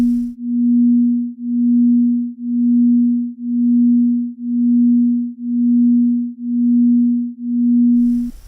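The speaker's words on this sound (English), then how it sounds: "This is the beat frequency between the 240 and 241 Hz tone." Pure 240 Hz and 241 Hz tones played together, forming one steady low hum that swells and fades in even beats about once per second, eight pulses in total, with no other sound.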